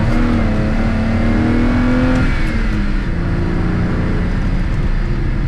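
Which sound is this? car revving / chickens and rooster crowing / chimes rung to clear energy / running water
car revving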